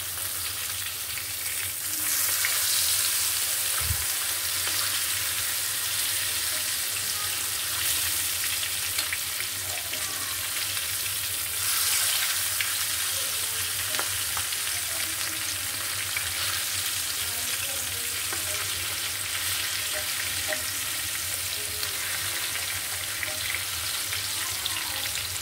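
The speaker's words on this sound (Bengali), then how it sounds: "হয়ে গেছে আমার মাছ ভাজি" Hilsa fish frying in a pan, a dense, continuous crackling sizzle held steady and close for the whole stretch, with no talking.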